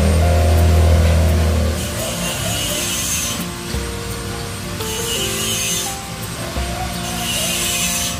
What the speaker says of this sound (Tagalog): May gumagawa kasi dito sa kabila, nag-grinder.